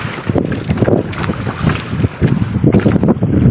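Strong wind at sea aboard a fishing boat, rushing and buffeting the microphone steadily in gusty waves, with boat and water noise mixed under it and no talk.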